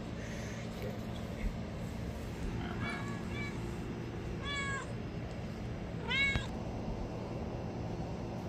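A mother cat caring for her kittens meows faintly three or four times over a steady background hum, with the calls growing slightly louder toward the end.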